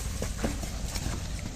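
A horse's hooves clip-clop in a steady walking rhythm on hard ground at a horse farm, close and moderately loud, with no talk over them.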